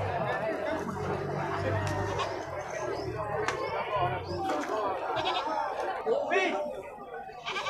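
Male goats bleat repeatedly at Grogol animal market among a large crowd of rams, their calls rising over steady crowd chatter and nearby talking.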